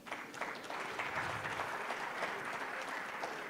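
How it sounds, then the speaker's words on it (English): Audience at a Konrad Adenauer Stiftung event in Kenya claps for themselves, a broad, even wash of many hands applauding continuously throughout, fairly loud and without talk. "I want to clap, all of you to clap for yourselves."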